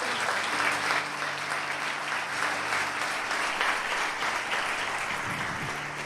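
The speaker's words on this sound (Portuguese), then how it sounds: "aplauda o Senhor nessa noite" A church congregation applauds steadily throughout a celebration service, a dense, continuous wash of clapping at even loudness from start to finish, with faint organ or keyboard tones sustained underneath.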